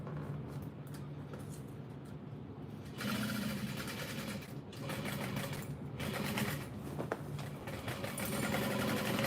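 A sewing machine stitches a fabric tote bag with lining and exterior layers, running in steady close bursts with brief pauses where it reverses for a reinforcing back stitch.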